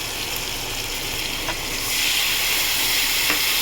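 Spice paste added to a hot pan after melted tomato, cooking for a Bengali mustard-sauce katla fish dish, sizzles with a steady loud hiss that swells partway through.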